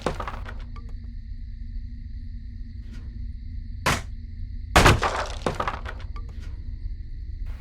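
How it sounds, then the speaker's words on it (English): In the Roblox game Dead By Roblox, a quiet steady background hum is broken by breakable walls being smashed: a couple of sharp cracking impacts, one brief and one louder with splintering debris, then small scattered clatters. "I'm gonna break these two breakable walls"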